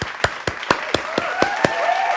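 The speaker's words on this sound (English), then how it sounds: "I think this is one of the lines we're supposed to applaud." Brief applause on a podcast set: one or two people clap in an even rhythm, about four claps a second, close to the microphone, with a soft tone lingering underneath.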